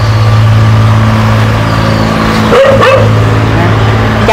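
Dogs at a rural Vietnamese home where many are kept, giving a short burst of close barks over a constant engine-like hum.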